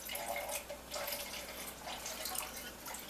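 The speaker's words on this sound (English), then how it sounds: "and pours it in a can" Wine poured into an emptied tomato sauce can for a pasta sauce with green peppers, a steady close liquid splashing and trickling with no voices.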